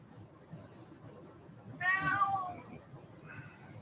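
A house cat gives a single clear meow indoors, fairly close, rising out of a quiet room hum with a faint second call just after.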